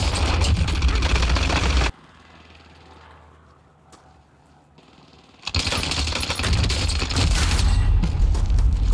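Rapid video game gunfire on the Caldera map, loud dense bursts filling the opening seconds, dropping to a quiet lull, then a renewed sustained volley of automatic shots.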